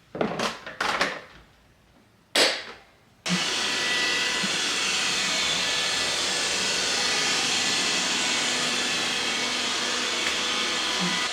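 After a few short clicks and bumps, a small handheld vacuum starts and runs with a steady, close whirring hum for the rest of the stretch.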